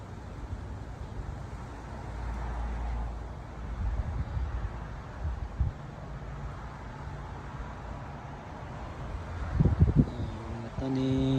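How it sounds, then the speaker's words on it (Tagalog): Strong wind blows outdoors in Arizona, rumbling and buffeting the microphone in uneven gusts that swell and fade, with a few brief tonal sounds near the end. "ang lakas dito na hangin guys"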